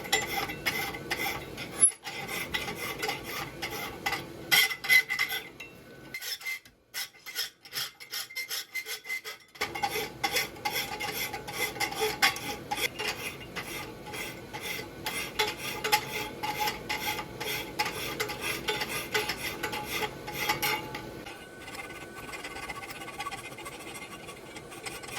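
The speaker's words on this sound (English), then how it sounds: "now we just have to rasp up our bars and make them look like bars" A hand rasp files steel bars on a horse hoof template, making repeated scraping, rubbing strokes with a brief pause partway through before steady rasping resumes.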